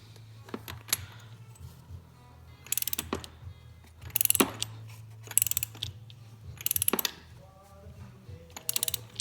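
A torque wrench ratchets and clicks while a bolt is tightened, with several bursts of sharp metallic ratchet clicks spaced across the clip over a low steady hum, up close and with no talking.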